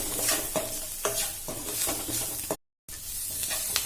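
Prawns frying in a pan give a close, continuous sizzle broken by repeated stirring scrapes and clinks, with a brief silent gap partway through and no talking.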